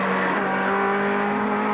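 BMW touring cars from the 1991 British Touring Car Championship, the Vic Lee and works entries, roar loudly through the club chicane with a steady, close, high-pitched engine drone and no voices.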